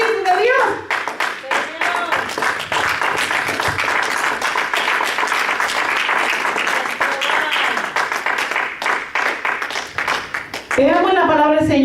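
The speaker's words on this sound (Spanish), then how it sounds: "Den un aplauso al Espíritu de Dios." A church congregation applauding during a Spanish-language service, many hands clapping in a rapid, fairly rhythmic patter that lasts for about ten seconds, with voices calling out at the start and end.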